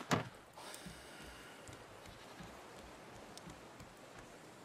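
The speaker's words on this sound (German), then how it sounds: "Ich höre schon, wie der Schaf heult." A sheep in the video game Raft lets out a single short bleat at the start, then only faint rain-like ambience continues quietly.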